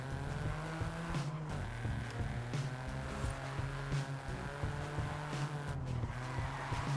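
A Toyota GR Yaris in Forza Horizon slides around with its tyres squealing over a steady, loud engine drone. The sound runs continuously throughout, close and prominent.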